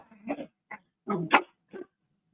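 A dog's vocalization played backwards, a few short separated whimpery bark-like bursts, close and clear against silence.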